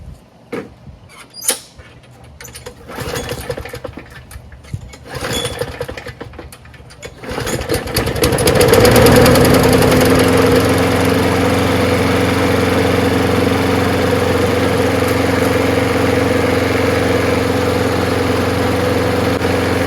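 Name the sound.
Craftsman push lawnmower, 6.5HP Briggs Quantum engine running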